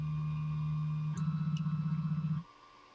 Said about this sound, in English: Printer's doing some homing.